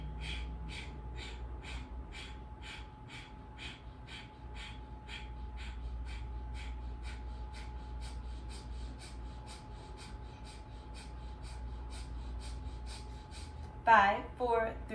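Rapid rhythmic breathing pumps during yoga breathwork, a steady run of short forceful nasal breaths repeating about twice a second, close and even, ending in a deeper breath near the end.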